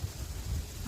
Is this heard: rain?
yes